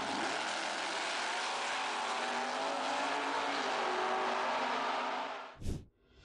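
A Ferrari 458 sports car roars past at extreme speed, a loud, sustained engine howl that cuts off abruptly near the end with a brief whooshing burst.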